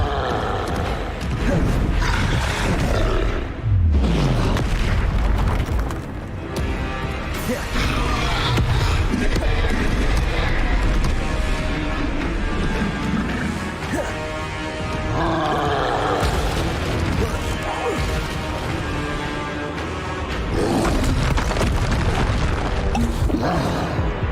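Bombarda explosion spells cast in the video game Hogwarts Legacy, loud booming blasts and roars in a continuous, busy combat soundscape with occasional vocal grunts.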